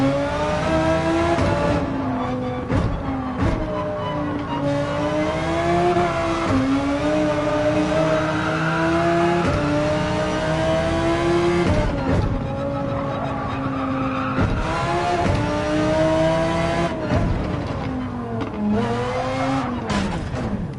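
A race car in a racing video game, its engine droning loudly and continuously as it revs up and down through gear changes, with brief dips and surges along the way.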